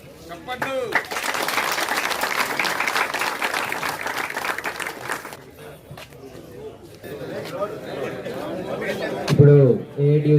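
Loud, dense applause from a gathering at an AITUC trade union event, steady for several seconds before fading. Voices and crowd chatter take over afterward.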